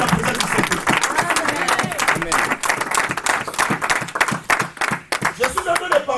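Church congregation applauding and clapping loudly and steadily throughout, a dense crowd of hands with voices mixed in, briefly dipping near the end.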